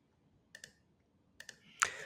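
Mouse clicks at a computer while working in SolidWorks CAD software: two quick double clicks, a pause, another double click, then a sharper, louder click near the end, close and quiet in a still room.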